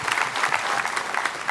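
A live comedy-show audience claps together for Tushar Shukla, a dense, steady burst of applause filling the room for over a second.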